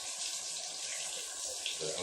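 Kitchen tap water runs steadily into a sink while the skin is rubbed off fresh ginger with a spoon, a close, continuous splashing rush that fills the whole moment without talk.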